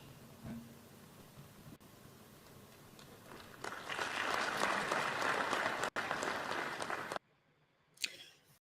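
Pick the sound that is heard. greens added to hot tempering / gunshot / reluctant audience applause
reluctant audience applause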